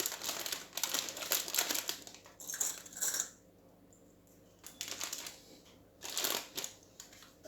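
Parchment paper being folded and crimped into a parcel around chicken for en papillote, crisp crinkling and rustling bursts in close, loud clusters separated by short quiet gaps.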